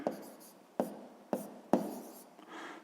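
Handwritten numbers scratched onto paper with pen strokes, four or five short, crisp bursts spaced about half a second apart, close and fairly quiet, with no talking over them.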